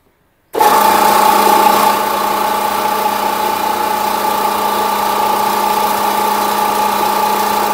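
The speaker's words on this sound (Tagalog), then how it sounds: "Testingin po natin itong pelletizer machine" A pelletizer machine starts abruptly and then runs at a steady, loud mechanical drone with a constant hum. It keeps going unchanged to the end with no talking.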